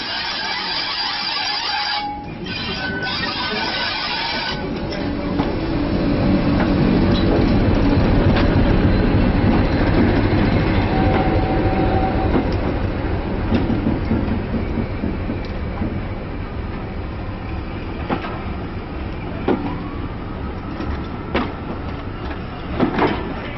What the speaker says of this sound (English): Train arriving is the